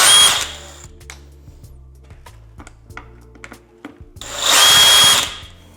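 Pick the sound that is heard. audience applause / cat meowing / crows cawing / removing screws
removing screws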